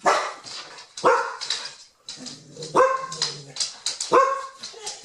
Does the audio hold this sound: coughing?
no